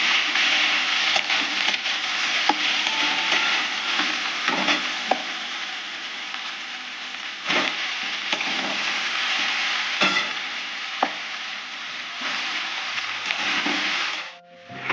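Panch phoron spices and chili frying in a pan for chalta pickle, a steady sizzle with repeated scraping stirs and knocks of a spoon, close and continuous for about fifteen seconds.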